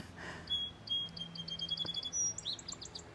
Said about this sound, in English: forgive me, I got a bird right over my head